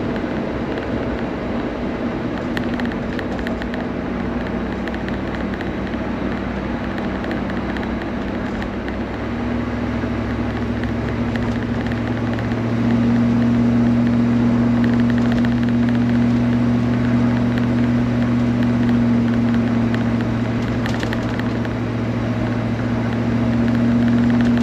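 A Range Rover Classic overland rig driving along a road, with a steady engine drone and drivetrain hum heard from inside the cabin. The engine note rises partway through as the truck picks up speed, and nobody talks.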